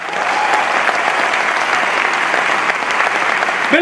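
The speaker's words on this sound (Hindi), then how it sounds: "उसके लिए जोरदार ताली बजा सकते हैं।" Loud, dense applause from a large audience at a motivational business seminar, a steady wall of clapping held for the whole stretch without a break.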